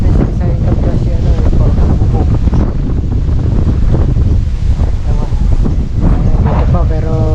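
Strong wind buffets the microphone over open water during airgun fishing, a loud, constant roaring gust with splashing surf beneath and a voice talking intermittently through it.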